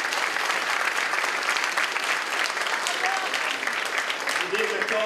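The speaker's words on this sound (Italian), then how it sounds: "veramente io credo che un applauso calorosissimo deve accogliere" A warm, continuous round of applause from a political gathering audience welcoming a minister, dense and steady clapping with faint voices and a few shouts mixed in.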